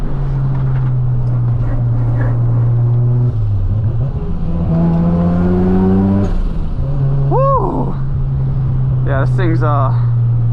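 A Mazda RX-7 FD pulls hard at around 80–90% throttle on a mountain touge road, its rotary engine droning loud and close and climbing in pitch through several gear changes, with brief shouted talk from inside the cabin.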